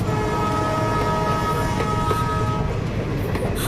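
A moving train heard from inside a carriage: a loud, continuous rumble with steady rolling drone and faint rail clatter throughout.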